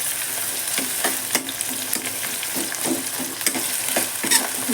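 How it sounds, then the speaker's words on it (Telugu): Three large, thinly sliced onions fry in hot oil while being stirred, a steady close sizzle broken by soft scraping strokes at a regular pace, with no voices. "ఇది బాగా గోల్డ్ కలర్ రావాలండి, అంతవరకు బాగా వేయించుకోవాలి"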